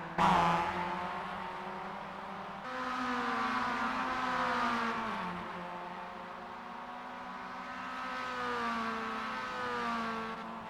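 Race cars lap the Charlotte Motor Speedway Roval in an iRacing sim race, engines droning and shifting pitch as they accelerate and pass, a continuous layered whine at moderate loudness.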